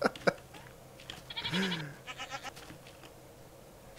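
Goats bleating in the Minecraft video game, with a couple of wavering bleats near the middle set among clicks and other game sounds, fairly faint and without speech.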